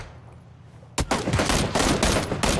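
Burst of video game gunfire during a multiplayer shooter match, a sudden loud volley starting partway through and continuing as rapid repeated shots after a quiet opening.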